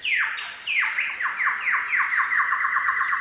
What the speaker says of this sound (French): en imitant parfaitement le chant de l'oiseau lyre